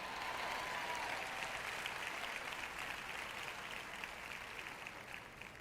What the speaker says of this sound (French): Quelqu'un devrait applaudir parce que je prêche bien aujourd'hui.